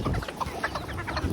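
Chickens clucking close by on a farm as they are given feed, a busy overlapping run of short clucks and soft calls.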